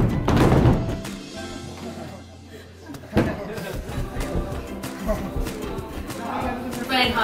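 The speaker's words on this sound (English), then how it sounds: "So when you stamp, it creates a resonant chamber underneath" Heavy foot stamps on a resonant wooden Noh theater stage, a loud thud near the start and another sharp thump about three seconds in, with voices and room chatter continuing around them.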